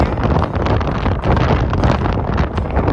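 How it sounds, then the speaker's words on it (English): Strong wind roars across the microphone on an Appalachian Trail thru-hike beside a rock formation, a loud, steady buffeting rush that swells and dips slightly without pause. "the wind is pretty strong"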